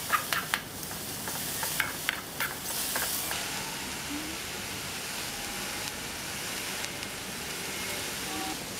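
Drumstick flowers with turmeric and salt sauté in a pan, giving a steady close sizzle and hiss, with a few sharp stirring scrapes early on and no talking.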